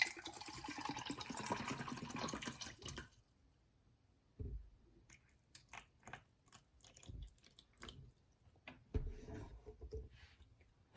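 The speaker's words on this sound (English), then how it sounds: "Let's pour some water in." Purified municipal drinking water from California poured into a container for a pH and TDS test, a close, dense gushing splash for about three seconds, then quiet with scattered small drips and clicks.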